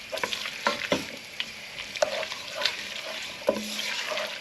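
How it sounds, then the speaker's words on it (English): Tomato puree fries in beef juices in a pan for a ragu, a soft, continuous sizzle broken by scattered scrapes and light clinks from stirring. "tomato puree just start to fry in with all of these juices"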